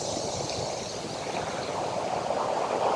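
Large ocean breakers, a two-metre swell building into a steep wall of water, crash and churn onto a Cabo San Lucas beach in a steady, loud roar of surf that continues without a break.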